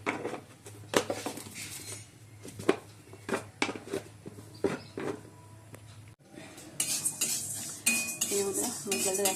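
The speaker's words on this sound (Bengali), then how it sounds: "মুগের ডালটা একটু ভেজে নিই।" Mung dal being dry-roasted and stirred in a hot kadai, with repeated metallic scrapes and clinks of a spatula against the pan, close and fairly loud, in irregular bursts with no talk.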